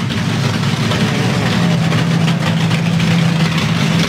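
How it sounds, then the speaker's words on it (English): Loud, deep methanol-fuelled Top Meth drag racing engines idle on the start line at Santa Pod with a steady low rumble and a constant throbbing drone, close by and unbroken throughout. "you'll hear them on the line with the revs down"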